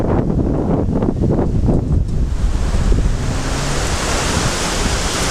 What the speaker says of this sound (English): It's a bit breezy on the beach today.